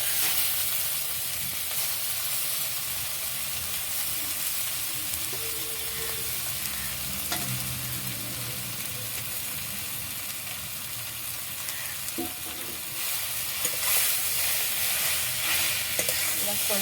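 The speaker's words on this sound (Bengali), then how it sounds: "সুন্দর করে আমি নেড়ে চেড়ে মিশিয়ে দেবো।" Taro fries and is stirred in a pan, giving a continuous close sizzle with soft scraping stir strokes. The hiss swells louder toward the end.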